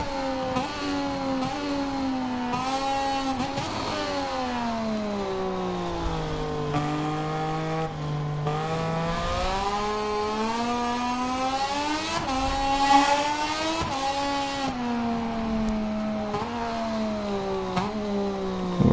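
A race car on a qualifying run on a local grand prix circuit, heard from on board: a continuous engine note climbs and drops through repeated gear changes, with no talk.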